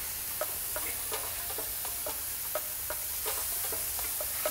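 A beef burger patty sizzles steadily in a pan as it is pressed down while frying, giving a continuous crackle with small pops and scrapes, fairly faint, with no voices.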